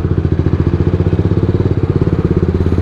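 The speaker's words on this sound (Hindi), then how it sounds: "एक्सीलेटर भी पेल रहे हैं, ब्रेक भी मार रहे हैं" Vehicle engine revving with the accelerator pressed, a loud, steady, throbbing mechanical drone that holds close and constant throughout.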